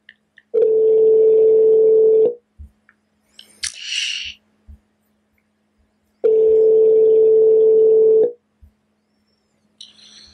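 A telephone on a phone line sounds two long steady dial tone bursts a few seconds apart, with a brief dialing burst and small clicks between them, loud and close with no talking.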